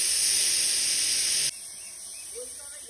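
A Russell's viper being handled during a snake rescue hisses in a loud, steady breathy rush for about a second and a half, then drops away abruptly to a quieter background.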